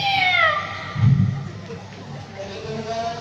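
A preacher's voice mimics a cat's meow during a sermon, giving a wavering, descending mewing cry that stands out from the surrounding speech before the talk carries on.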